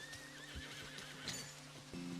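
A horse in the video game Red Dead Redemption, a rescue mare with rain rot and chipped hooves, gives a clear, close whinny over a steady background hum, with a few hoof clops.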